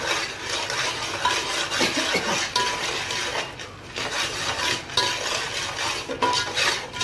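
A spoon stirs turmeric into a large pot of pav bhaji masala cooked for fifty people, with steady scraping and metal clinks against the pot over a soft sizzle.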